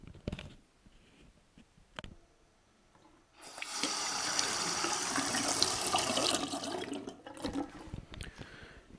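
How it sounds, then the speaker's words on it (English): Running water on a thru-hiking trail pours steadily and fairly close beside a tent, a continuous rushing wash lasting several seconds after a few quieter rustles and knocks. "This glorious sound you listen to is running water."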